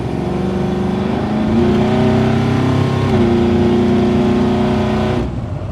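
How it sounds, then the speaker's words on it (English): A 1989 squarebody crew cab short-bed truck with a 502 big block accelerates hard, a loud, close, steady engine roar rising in pitch through shifts, with no talk over it. "Truck accelerates amazing."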